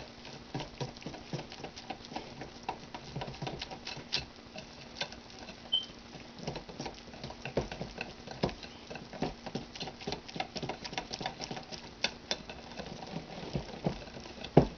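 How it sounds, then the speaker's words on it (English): Pancake batter being stirred by hand in a bowl, a quiet, steady patter of soft wet clicks and taps repeating irregularly throughout, close and faint with no talking. "Now you don't want to mix it terribly much, but you do want to mix it more than you would muffins."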